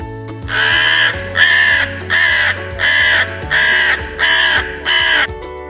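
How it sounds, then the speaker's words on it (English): Crow cawing: a run of about eight harsh, evenly spaced caws, loud and close, each a short raspy burst, repeating steadily with a low background hum underneath. "Crow."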